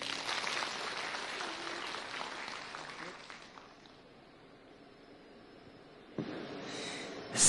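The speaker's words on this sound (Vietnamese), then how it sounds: "Hãy dành một tràng vỗ tay" An audience at a Vietnamese cai luong concert applauds to welcome a performer, loud clapping over the first few seconds that fades into near silence before a brief sound returns at the end.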